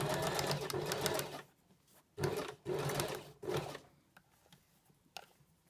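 A sewing machine stitches a shirt collar in short bursts of quick, close needle clatter separated by quiet pauses, with small fabric handling noises between runs and no speech.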